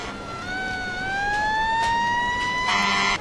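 A police car siren in the game Emergency 4 (911: First Responders, Los Angeles mod) rises slowly in pitch, loud and steady, with faint background rumble and no talking.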